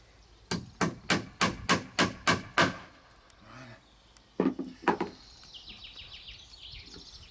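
Eight sharp hammer blows on a nail into wood in quick, steady succession, then a short pause and a few more strikes, close and loud.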